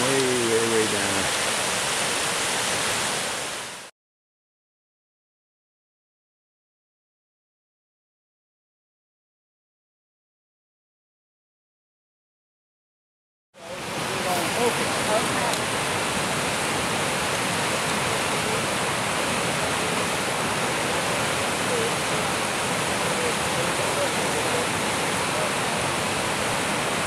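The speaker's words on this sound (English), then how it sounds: "Water goes streaming way, way, way down." Water rushes continuously down a mountainside in Little Lakes Valley, John Muir Wilderness, a steady broadband roar like a waterfall, cut by about ten seconds of total silence before the rushing resumes.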